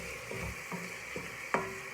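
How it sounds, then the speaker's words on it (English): A soft, continuous sizzle of onions frying in olive oil in a pan, with a few light clinks and scrapes of stirring at irregular intervals. "we can hear those onions are starting to sizzle"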